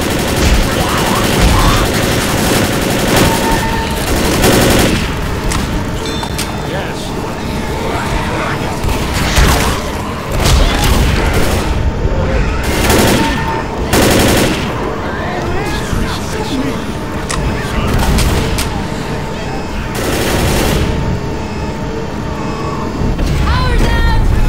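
Rapid, sustained gunfire from the co-op zombie shooter Left 4 Dead on the Crash Course campaign, played online. Dense bursts and volleys continue throughout, with players talking over the shooting.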